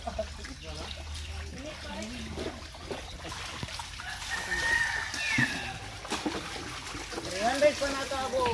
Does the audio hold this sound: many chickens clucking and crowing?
yes